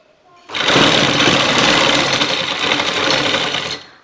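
An electric sewing machine stitching a neckline strip on a kameez runs in one continuous fast whirring burst of about three seconds, close and loud, then stops.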